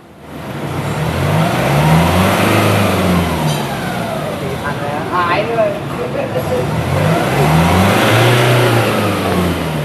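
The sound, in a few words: Nissan Navara diesel engine revving to about 3500 rpm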